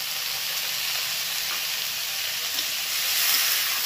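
Diced tomato frying together with pumpkin in a pan for a spinach and chickpea dal, a loud, dense, continuous sizzle and hiss held close throughout, swelling slightly near the end, with no talk.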